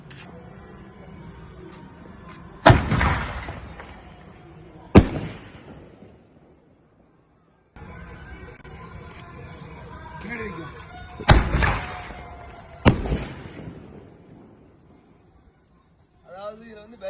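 Two-inch pipe firecrackers launch and burst in sharp, booming explosions, several loud blasts in pairs outdoors, with people talking in the background between them.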